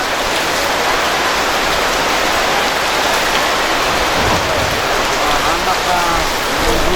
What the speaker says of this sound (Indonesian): Hujan guys, hujan guys.